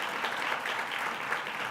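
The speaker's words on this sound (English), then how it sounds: "Please give them a round of applause." A brief stretch of steady, dense audience applause at an awards event, even in level and unbroken, with no voices over it.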